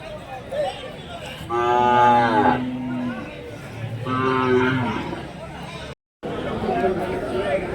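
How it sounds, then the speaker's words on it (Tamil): Cattle and large bulls at a rural livestock market in Krishnagiri district low twice with long, loud moos over a background of crowd chatter and people talking. "எல்லாம் வந்து பெரிய பெரிய காளைங்க"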